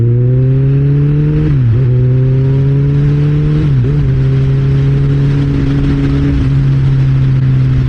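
A Kawasaki Ninja ZX-14R inline-four sport bike pulls hard and close, its engine note climbing steadily through the gears with three brief dips at clutch shifts before rising again, loud and continuous with no voices.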